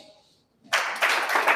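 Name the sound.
audience clapping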